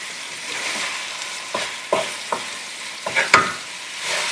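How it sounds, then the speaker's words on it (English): Ground chicken qeema sizzles in a pan with spices while a spoon stirs and scrapes it, giving a steady frying hiss broken by several sharp scraping knocks, close and with no talk. "I'm going to cook the meat for another 10 minutes until all the juices are pretty much well absorbed."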